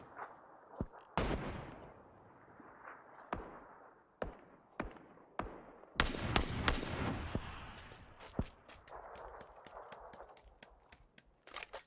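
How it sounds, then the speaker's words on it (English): PUBG gunfire: a series of sharp, loud single shots and bursts spaced irregularly, some close and booming, others lighter, with quieter movement sounds between them. "Shoot him in the face."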